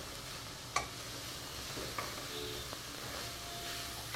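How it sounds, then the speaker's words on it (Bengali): Vegetables for vegetable fried rice fry in a pan over a raised gas flame, giving a faint, steady sizzle with a few light clinks of stirring. "এটা একটু হালকা ভাজা ভাজা করে নেব।"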